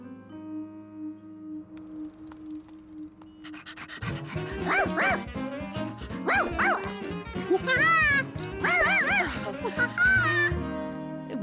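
A cartoon dog barks and yips in a lively burst over a music bed, with several close, sharp animated barks rising from about the midpoint onward.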